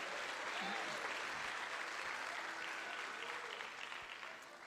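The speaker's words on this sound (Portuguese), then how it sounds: "Os que podem, tomem seu assento aplaudindo a Jesus" A church congregation applauding during a worship service, a continuous broad wash of clapping from a large crowd that holds steady and then slowly fades.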